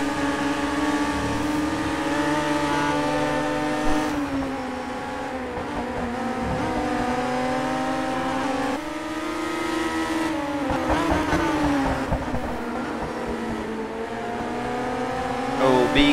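Historic F3 race car on a flying qualifying lap at Zandvoort in a racing video game, its engine note climbing and dropping through gear changes, loud and continuous without pause.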